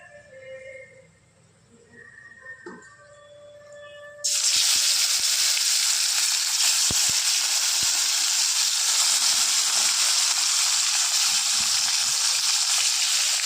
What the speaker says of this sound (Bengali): দেখুন বন্ধুরা, মাছগুলো দিয়ে দিলাম তেলে। এবার এপিট ওপিট করে লাল করে একটু ভেজে নেব।